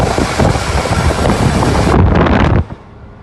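A large truck hauling about 17 tonnes of Morshynska bottled water toward Borodianka drives with a loud, steady road and wind roar that drops away abruptly near the end.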